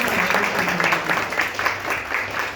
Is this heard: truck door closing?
no